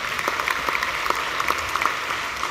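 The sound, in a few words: round of applause at awards ceremony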